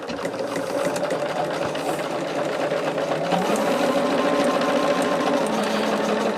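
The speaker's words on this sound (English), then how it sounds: "I may just try to go on and chain stitch most of what I can up front" Sewing machine chain stitching cotton quilt blocks runs steadily and close, a continuous motor whir with rapid needle chatter that never pauses.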